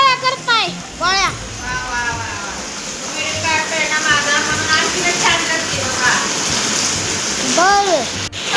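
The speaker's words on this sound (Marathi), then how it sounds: "मित्रांनो बघा पाऊस किती आलाय" Heavy rain falls steadily outdoors as a broad, constant hiss, while children's voices and chatter rise and fall over it near the start and end.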